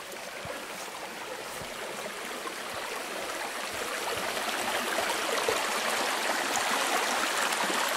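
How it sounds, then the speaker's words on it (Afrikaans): River water rushing and flowing steadily, a continuous broadband wash that grows slightly louder as it nears, with no voices. "dan kom ons by die rivier uit"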